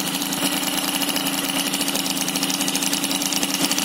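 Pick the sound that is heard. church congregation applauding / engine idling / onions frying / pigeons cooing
engine idling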